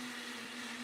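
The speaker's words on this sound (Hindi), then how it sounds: "मिक्सी चल रहा है।" A mixer grinder runs in a home with a steady, high-pitched whine and a constant hum. It is brief and fairly loud, and no one speaks.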